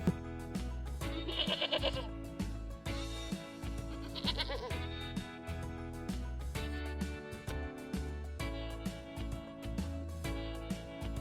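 A goat bleats in a children's lesson about farmyard animals, several loud bleats in sequence over a steady backing of music.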